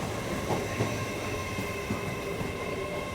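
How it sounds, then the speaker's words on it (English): A train rumbles into a station in York, Yorkshire, a steady roar of wheels on rails with faint clanks and a light squeal, loud and close. "So this is our train coming in"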